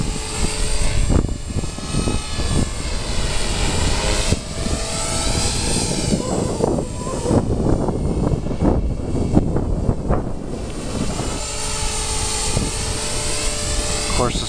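A V450D radio-controlled helicopter hovering and flying in windy conditions outdoors, its steady rotor and motor whine running continuously with wind buffeting, while a person talks over it throughout.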